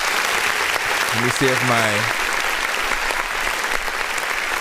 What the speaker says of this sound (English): let's go ahead and give a clap